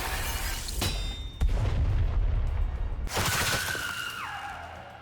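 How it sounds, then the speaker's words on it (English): A cannon in the mobile game Goddess of Victory Nikke firing a massive beam, heavy booming blasts with a crackling rumble, a second strong hit midway and a falling electronic whine as the sound fades. "With another tremendous blast that shakes the ground, a massive beam erupts from the cannon"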